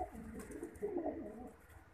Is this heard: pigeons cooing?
yes